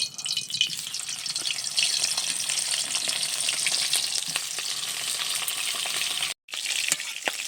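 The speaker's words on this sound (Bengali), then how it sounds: "কালকের ভাজা মাছগুলো আজকের একটু ভেজে নেব" Tengra river fish, fried the day before, sizzle and spit steadily in oil in a kadai, a loud continuous hiss with brief crackles and one sudden cutoff near the end, no talking.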